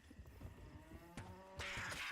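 Cow in Diablo 2 letting out a low, drawn-out moo, followed by a short burst of clanking combat noise; no talking.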